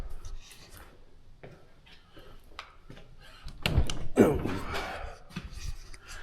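A frozen-shut door is forced open with a few thuds and a scraping clunk as it breaks free, preceded by quieter knocks, close and fairly loud.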